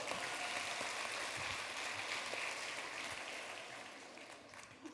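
Church congregation applauding during a sermon, a faint, distant, continuous patter of clapping that softens gradually toward the end, heard without any speech.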